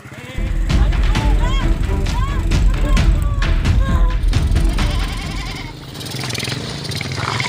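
A goat bleats repeatedly and loudly as it is grabbed and carried toward a motorcycle. Voices talk around it, with a low rumble underneath.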